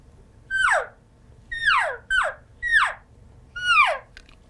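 Five high, descending mewing calls, each a short nasal whistle sliding downward, spaced evenly apart; a caller imitating elk cow calls, close and clear.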